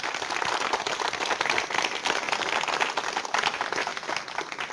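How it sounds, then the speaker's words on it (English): A large crowd in a studio audience claps steadily in a full, continuous round of applause, with no talking over it. "Give the viewers around the world a round of applause."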